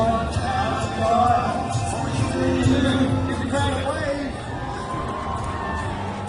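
A crowd at a high diving World Cup event in Kazan cheers and murmurs steadily through the whole stretch, a broad distant roar with a commentator talking over it.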